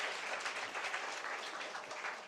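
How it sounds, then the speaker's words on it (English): Audience applause for children studying and practising music at a gathering, a steady dense wash of many hands clapping at moderate level, continuous throughout with no voices. "So a big round of applause for you also."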